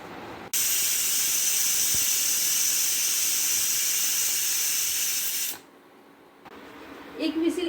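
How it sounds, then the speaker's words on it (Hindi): Loud steady hissing whistle from a pressure cooker cooking baby potatoes, a continuous high steam jet lasting about five seconds before cutting off, then quieter kitchen sounds. "मैं 1 विसिल आने देती हूँ इसमें।"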